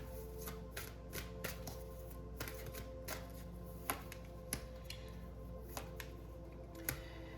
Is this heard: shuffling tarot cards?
yes